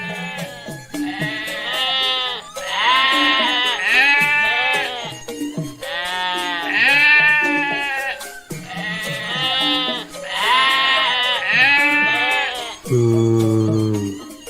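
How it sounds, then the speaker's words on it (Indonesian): Cartoon goats bleating in a livestock market, a series of loud, wavering bleats in repeated bursts, close and prominent. "Di sini banyak kambing"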